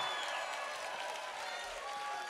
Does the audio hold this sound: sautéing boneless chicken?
no